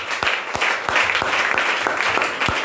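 A church congregation claps and cheers in praise during a fasting and prayer service, a loud, dense wash of applause with sharp individual claps standing out, close and sustained.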